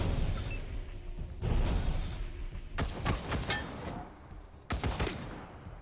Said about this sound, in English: I knew that turret was going to be coming.